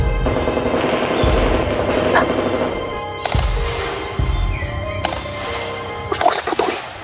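Gunfire overhead cracks in a few sharp, loud reports amid a dense, droning background, single shots spaced unevenly with one brief cluster near the end.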